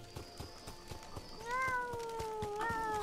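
A kitten in the game Sir Whoopass lets out two drawn-out, plaintive meows over ambient game sounds and soft rhythmic thumps, close and clear, with no talking.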